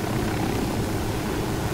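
A helicopter in the video game Ghost Recon Wildlands gives off a loud, steady rotor and engine drone that holds at an even level on its own.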